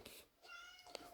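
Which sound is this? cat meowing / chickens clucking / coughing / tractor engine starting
cat meowing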